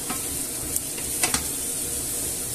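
Spicy garlic mushrooms fry in oil in a pan for a traditional Spanish dish, giving a steady loud sizzle. A few brief scrapes and knocks sound as they are moved about.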